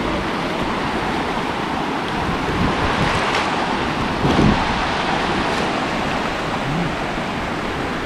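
Steady roar of surf washing onto a warm beach near the Elliot River mouth, with wind noise blowing across it and a brief louder gust near the middle; no voices.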